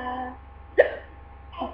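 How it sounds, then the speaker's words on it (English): A child's single sharp hiccup pops out near the middle, close and fairly loud, after a brief bit of talk. "I have a hiccup."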